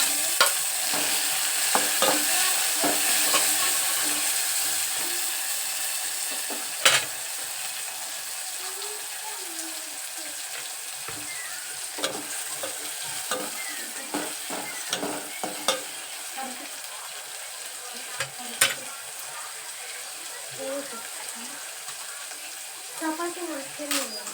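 Onions browning and then tomatoes added in a pan for North Karnataka dal fry, giving a steady crackling sizzle with scattered stirring clicks and scrapes close by.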